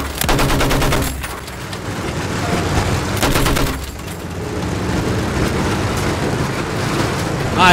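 Gunfire in the World War I shooter Battlefield 1, with loud rapid machine-gun bursts in rattling volleys over a constant din of battle, one burst near the start and another around the middle.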